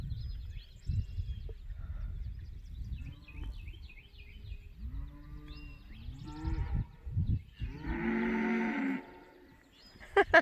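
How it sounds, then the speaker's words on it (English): Several cattle near a campsite along the Appalachian Trail in Virginia give repeated low moos and drawn-out bellows, some close and loud, others softer, with faint bird calls in the background. "What a pretty cow."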